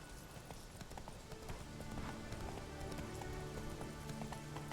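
Hoofbeats of Roach, the horse in the video game Witcher 3, clip-clopping steadily at a run over a continuous rain-like background wash, moderately loud and without talk.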